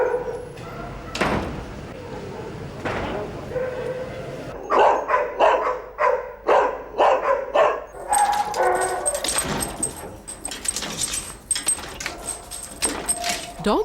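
Dogs at the Battersea dog shelter bark and yip in bursts, some near and loud, others echoing farther off along the kennels, with clanks like doors and voices talking underneath.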